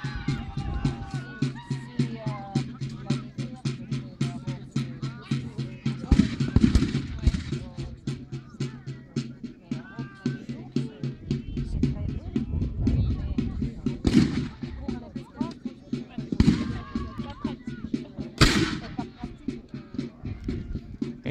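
Black powder muskets firing at a Napoleonic reenactment bivouac, sharp reports cracking out at intervals amid a busy outdoor crowd murmur, several shots standing out loud over the steady background.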